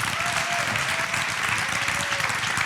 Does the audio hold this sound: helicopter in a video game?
no